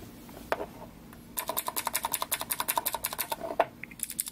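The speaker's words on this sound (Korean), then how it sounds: "탁탁탁 거리는 요 기계음이 기계식 키보드에 좋은, 아니면 뭐 괜찮은 느낌의 키캡인 것 같습니다." Rapid, steady typing on a mechanical keyboard, close up, with crisp evenly spaced key clacks in a quick run after a few isolated presses.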